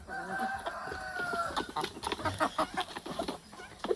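Rhode Island chickens cluck and crow while being fed madre de agua on a farm, a busy burst of near, overlapping clucks and squawks with scattered pecking sounds and no talk.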